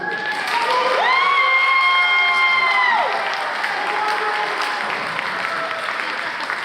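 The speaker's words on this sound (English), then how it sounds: "So we have a huge round of applause to Mr. Fernandez" A high school band concert audience claps for a staff member, sustained loud applause with a few cheers, while a held electronic tone sounds over it for a couple of seconds before fading.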